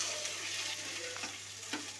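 Sliced onions frying in a pan, a steady close sizzle with a few scraping stirs and light clicks of a utensil, no voices.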